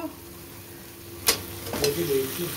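Boal fish pieces go into mustard paste cooked down with turmeric and a little water. The quiet bubbling is broken by a sharp sizzle burst, then a few stirring scrapes and a softer hiss that lingers.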